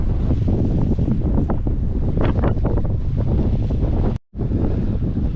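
Strong gusty wind by the North Sea at Hartlepool buffets the microphone in a constant roaring rush, with a faint wash of surf underneath and a brief dropout near the end.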